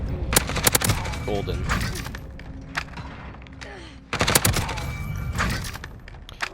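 Bursts of automatic Grau 5.56 assault rifle fire in a first-person shooter game, rapid rattling volleys with a pause between two strings of shots, a brief spoken word over the top.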